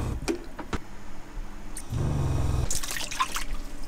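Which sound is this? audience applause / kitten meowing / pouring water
pouring water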